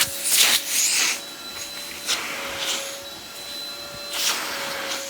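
An Aerus Lux Electrolux Guardian upright vacuum runs in tool mode with a steady motor whine and airy suction, and brief louder rushes of air come as the tool moves over surfaces.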